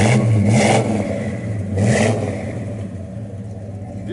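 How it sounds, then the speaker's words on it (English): A 1970 Pontiac LeMans GTO convertible engine revs twice in quick bursts, its exhaust rising and falling nearby, then settles back to a steady idle. "Sounds good off the exhaust."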